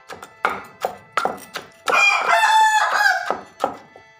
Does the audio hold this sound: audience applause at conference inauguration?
no